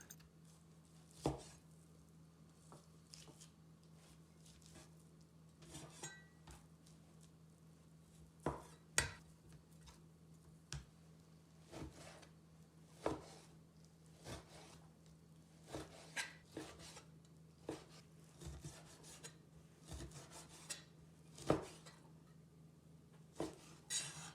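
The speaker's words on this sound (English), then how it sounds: "Let's start by cutting the beef into thin strips." A knife slices beef into thin strips on a cutting board, sharp irregular chops and knocks spaced through the clip, close and fairly quiet with no talking.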